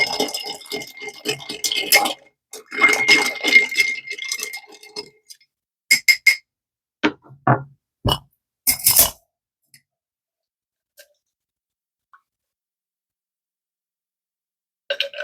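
Ice clinking and rattling against a glass of High West whiskey as it is stirred, a few quick bright rattles then scattered isolated clinks, close and moderately loud with no talking.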